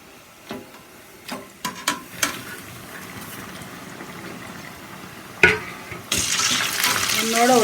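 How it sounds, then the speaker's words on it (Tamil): Pieces of cut butter biscuit dough drop into hot oil in a kadai with a few clinks and splashes, then a loud, steady sizzle of frying takes over near the end. "இப்போ நம்ம கட் பண்ணி வந்ததை போட்டுருவோம்."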